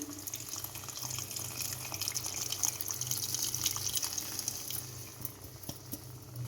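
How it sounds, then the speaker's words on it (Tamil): Tamarind water pours steadily into a cooking pot with a soft splashing trickle that tapers off, close by and alone. "இப்போ இந்த புளியை கரைச்சி அதில் ஊற்றிக்குவோம்"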